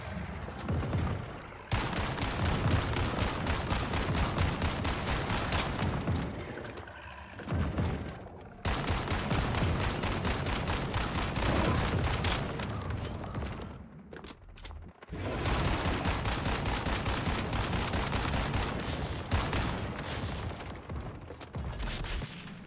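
Rapid, sustained gunfire in the Once Human survival shooter, aimed at a dog-like creature on a hard-mode server; loud bursts run in three long stretches with brief pauses between them, and no talk is heard.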